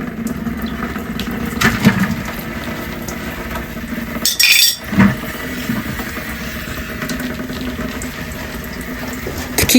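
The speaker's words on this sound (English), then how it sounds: "We're going to take that union apart and drain the water out." Water draining from a loosened union on a well supply line, a steady close trickle and splash with a few metallic clinks from the wrenches on the pipe.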